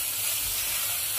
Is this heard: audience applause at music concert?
no